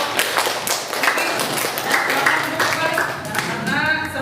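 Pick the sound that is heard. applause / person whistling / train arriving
applause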